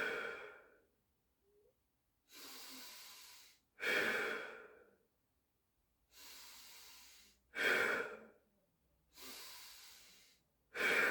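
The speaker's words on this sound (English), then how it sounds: "We're going to go back to child's pose, 6 deep breaths." Slow, deep breaths held in a child's pose stretch at the end of a pilates session: six long inhale-exhale cycles, close and soft, rising and falling steadily with quiet pauses between.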